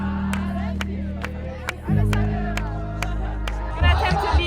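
Crowd hubbub of voices and shouts gathered around a cyclist on a road in Ethiopia, dense and close, with sharp repeated bursts and a louder swell near the end, people talking throughout.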